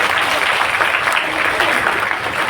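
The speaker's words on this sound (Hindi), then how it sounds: "एक बार जोरदार ताली।" Audience applause at a mother-honouring award ceremony in Chandigarh, a dense steady wash of clapping filling the hall at even loudness throughout.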